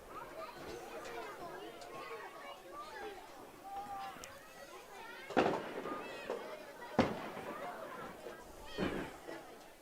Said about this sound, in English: So yeah, quite the fireworks show.